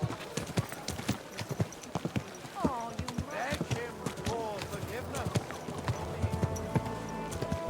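Horse hooves clip-clop steadily in the Kingdom Come: Deliverance II video game, a quick regular trot mixed with a brief whinny, running under ongoing talk.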